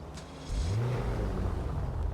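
Engine of a car in a video game, a low steady hum that swells and rises in pitch about halfway through, then holds on as a continuous mid-level drone with no voices.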